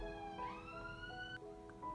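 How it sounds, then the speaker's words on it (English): An emergency vehicle siren passes outside, faint and distant, its wailing tones slowly rising and falling against quiet indoor background noise, with no talking. "Let the siren go past."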